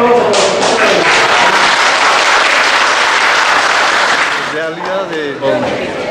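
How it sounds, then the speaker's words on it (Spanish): A group gives a big round of applause at an army patrol award ceremony, loud and continuous before tapering off, with voices rising through the clapping near the end. "les agradecemos el gran aplauso"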